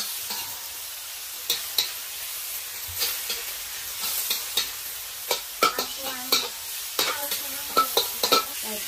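Pork and greens stir-frying in a wok with wine and soy sauce, a constant hiss and sizzle broken by repeated scraping and clattering strokes of the spatula, close and fairly loud.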